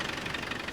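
A 1995 Land Rover Defender 90 with a 300Tdi diesel engine runs steadily at idle close by, giving a continuous, even knocking rumble with no voices over it.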